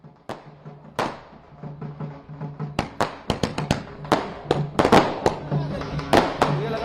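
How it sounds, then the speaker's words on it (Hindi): Fireworks and firecrackers burst again and again at a street celebration in Pune. The sharp bangs and cracks come irregularly, some near and loud, and a reporter talks beneath them. "आप देखिए किस तरीके से आतिशबाजी हो रही है"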